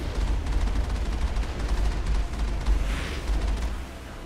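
Rocket launcher and gunfire in Mass Effect, with dense, rumbling rapid shots and booms in a continuous battle din, fairly loud, with a whooshing burst near the end.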